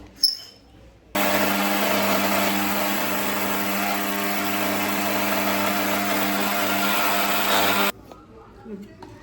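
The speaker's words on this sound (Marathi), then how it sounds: "त्याला आपल्याला मिक्सरला फिरून घ्यायचं" A kitchen mixer grinder whirs loudly and steadily for about seven seconds as hot roasted ingredients are ground into a fine powder, starting and stopping abruptly, with quiet room sounds before and after.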